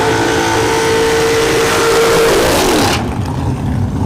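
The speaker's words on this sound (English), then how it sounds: "We will see this dragster this weekend at Bradenton Motorsports Park" A dragster roars at a drag strip during a Wednesday test-and-tune session, a loud, continuous engine howl that cuts sharply in brightness about three seconds in and leaves a duller rumble.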